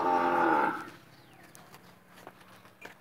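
A freshly calved buffalo at a rural farm lets out one loud, drawn-out moo lasting under a second, followed by quiet farmyard ambience with faint birds.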